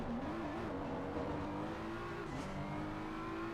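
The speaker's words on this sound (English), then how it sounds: "Listen to that BMW engine." A BMW race car engine in a racing video game drones steadily at high revs through the corkscrew corner, a sustained buzzing tone that dips briefly as the car shifts, with no talk.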